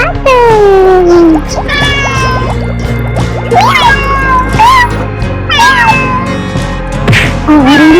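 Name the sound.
cat meowing in an animal cartoon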